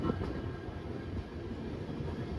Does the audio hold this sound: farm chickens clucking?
no